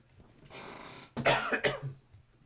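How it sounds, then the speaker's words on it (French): A soft throat-clearing rasp leads into a pair of sharp, close coughs, heard alone with no speech. "Attendez, excusez-moi, ça va tousser"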